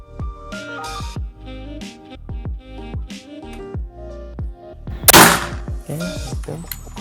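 A PCP air rifle fires several sharp, close shots, each a short crack. Ringing tonal sounds between them suggest music, and one louder, brighter burst stands out near the end.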